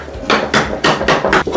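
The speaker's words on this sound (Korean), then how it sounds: "이렇게 조인되는 부분만 잘 맞추신 다음에 이런 망치 같은 걸로" A hammer knocks together the joints of a DIY wooden dog bowl stand, giving five loud, close, evenly paced wooden taps in quick succession.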